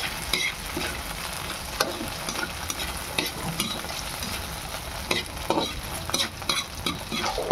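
Leftover fried rice mixed with garlic, boiled egg, nuggets and hotdog being stirred and fried in a pan, with a steady low sizzle under repeated scraping strokes of the spatula, no talking.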